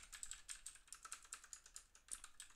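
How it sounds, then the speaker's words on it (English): Rapid clicky keystrokes on a mechanical keyboard, a quiet, fairly even patter of individual key presses heard alone at low level. "mechanical keyboard."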